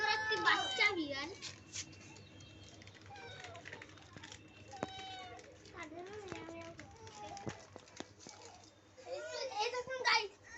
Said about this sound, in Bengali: শুনতে পাচ্ছেন ম্যাও ম্যাও।